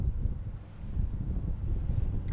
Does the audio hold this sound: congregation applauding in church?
no